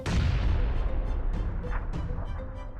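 A rifle shot from a long-range scoped weapon on single fire in the video game PUBG, a loud booming report at the start with a rolling tail that fades over a few seconds.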